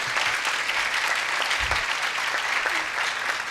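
A church congregation at Mass applauds, a dense, continuous clatter of many hands clapping at close range that holds steady throughout without pause.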